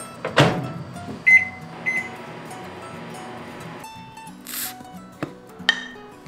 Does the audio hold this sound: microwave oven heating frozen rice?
yes